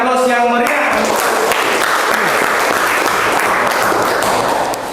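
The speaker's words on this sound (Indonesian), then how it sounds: "kita beri aplaus yang meriah" An audience in a classroom session claps steadily, a dense, loud wash of applause lasting throughout, with a brief tonal voice or chime at the start.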